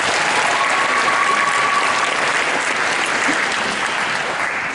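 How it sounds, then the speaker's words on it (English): A high school crowd at a homecoming royalty assembly gives steady, sustained applause for a homecoming princess, dense clapping filling the space from start to finish. "Let's have another round of applause for Kirsten Baker"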